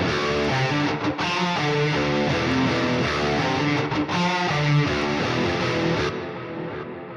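Electric guitar through a free amp simulator plugin with ping pong delay, playing a sustained distorted chord riff with echoes rebounding, loud and steady, then the notes ringing out at the end.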